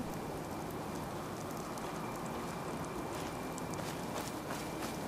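Steady rain pours down in the Fallout 4 game world at a harbor as evening falls, a dense, even hiss that fills the scene evenly without pause and carries no voices over it.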